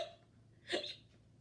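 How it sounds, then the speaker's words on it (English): A single short, quiet hiccup from a kitty in a children's story, heard alone in a hushed room. "Pete still has the hiccups."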